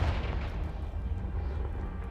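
Confringo fire spell blasting a blocking pile in Hogwarts Legacy: a deep, loud rumbling explosion with heavy low-end boom that rolls on steadily without a break.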